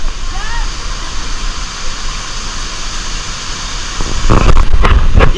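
A waterfall in Laguna roars with a constant, rushing wash of water that swells louder and more turbulent near the end, and faint voices can be heard underneath.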